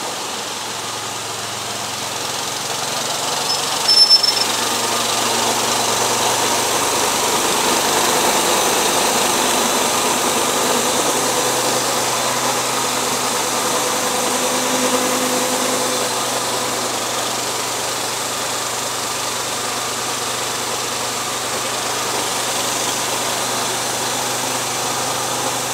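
A KUN Delliff Strong 1800 front loader loading barley, its engine droning steadily at a constant low rumble for the whole stretch, with one brief metallic clank early on.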